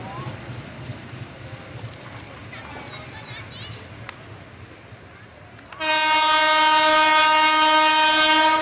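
A train on a railway line heard against a busy outdoor background with children's voices, then a loud sustained horn blast with a steady rich chord takes over for the final few seconds.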